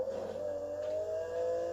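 An old McLaren race car in a video game revs its engine, a loud, sustained high-pitched whine that holds steady and climbs slightly over a couple of seconds, with no talking.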